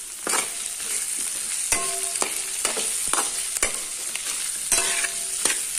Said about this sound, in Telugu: కొంచెం ఫ్రై అయ్యిద్దామండి